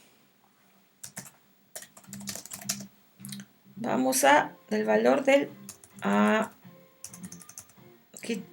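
Keys clatter on a computer keyboard in quick bursts and scattered clicks while someone writes PL/SQL code, with someone speaking Spanish over much of the typing.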